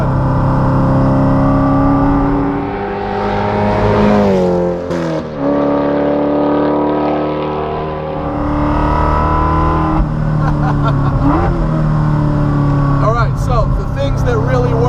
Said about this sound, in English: High revving modular Aluminator engine.